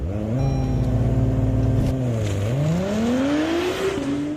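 A supercar engine revs loudly on a Dubai street, its pitch holding steady, dropping briefly, then climbing in a smooth rising sweep of acceleration, close and continuous with no voices.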